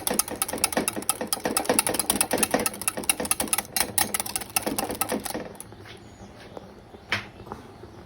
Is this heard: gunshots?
no